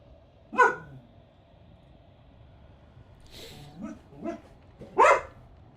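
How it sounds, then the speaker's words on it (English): Dog barking alone in a quiet room: a sharp bark, a pause, then a few softer yips and whimpers and one final loud bark, fairly close. "The barking is serious business."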